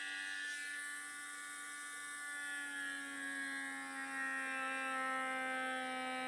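A small electric vacuum sealer pump motor for mason jars runs with a steady high-pitched whir, constant and close, without any voices.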